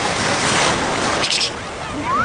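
Sea surf washes against a person standing in the water, a continuous close rush of breaking waves with wind buffeting the microphone and a brief splash midway.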